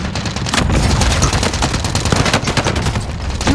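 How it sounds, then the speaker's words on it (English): Gunfire in a battle royale shooter video game, dense bursts of rapid automatic shots and booms crackling continuously and loudly throughout. "This guy's shooting at you and then he shoots at me and he kills me."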